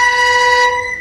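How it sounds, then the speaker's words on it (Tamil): Long bus horn blares at a busy bus terminal in Coimbatore, a loud sustained tonal honk filling the second before fading slightly at the end. "சாரி, ஃபுல்லா ஹாரன் அடிச்சுட்டே இருக்காங்க."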